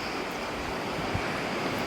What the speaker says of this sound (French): désolé pour un petit peu le vent qu'il y a derrière